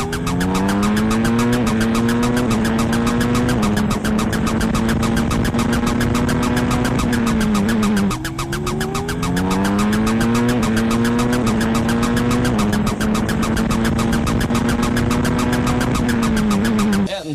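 Onboard sound from Ayrton Senna's Williams Formula 1 car on his final lap: a loud, high engine note climbs through the gears again and again, with brief dips on the upshifts and under braking, all close up and continuous.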